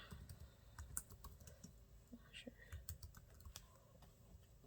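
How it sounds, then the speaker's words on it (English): Computer keyboard typing while making care stickers for tumbler boxes, a soft irregular patter of close key clicks, quiet, with faint background noise. "And then I'm going to type in my little instruction."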